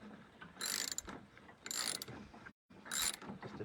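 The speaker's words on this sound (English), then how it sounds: "Just a few ratchets of it, make sure it's good and tight" Ratchet wrench tightening the wheel nut on a lawn mower tire, three bursts of rapid metallic clicking with short pauses between, close and clear, the last burst after a brief silence.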